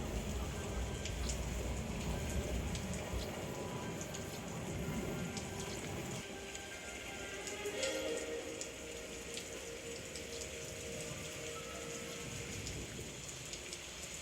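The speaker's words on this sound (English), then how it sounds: "The wet season's still going on, and the rains are coming down hard." Heavy wet-season rain pours down over a valley in a steady, dense hiss, fairly quiet and continuous with scattered drop patter and no voices.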